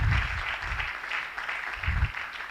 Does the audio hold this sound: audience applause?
yes